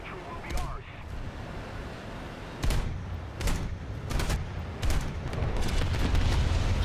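Aircraft cannon fire from a plane in the combat flight game War Thunder: several sharp booming bursts at irregular intervals, moderately loud over a steady engine-like rumble, with brief talk at times.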